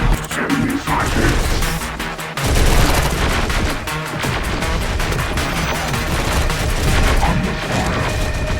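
Dense, sustained gunfire and explosive crashes rage through a battle in the video game Terminator: Dark Fate - Defiance, with bursts of automatic fire layered into a loud, continuous fusillade.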